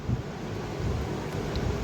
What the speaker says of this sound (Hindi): बहुत तेज़ हवा आ रही थी, बहुत तेज़।